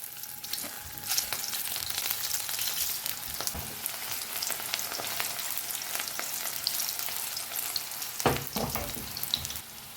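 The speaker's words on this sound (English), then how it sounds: "Time to shallow fry the potatoes" Smashed potatoes shallow frying in mustard oil for a tangy aloo matar dish, a steady close sizzle and crackle throughout with a few louder spits and pops and a brief stir near the end.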